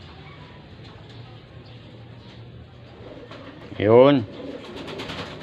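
Racing pigeons, including a blue bar hen, bathing, with one brief, loud burst of cooing mid-clip over a steady low background; a voice speaks briefly.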